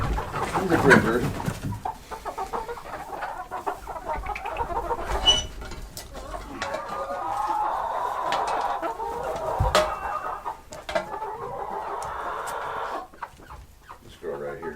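Chickens cluck and murmur nearby in a steady, low chatter with occasional sharper calls, amid faint background noise.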